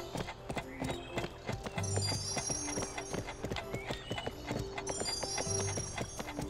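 In the Barbie Horse Adventures video game, a horse gallops with rapid, steady clip-clop hoofbeats, and whinnies sound twice over the game's music, close and continuous.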